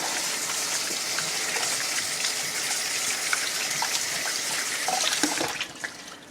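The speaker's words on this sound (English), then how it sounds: "So let me wash my hands real quick in between." Tap water runs steadily into a sink during handwashing in a home kitchen, a continuous close hiss and splash that cuts off near the end.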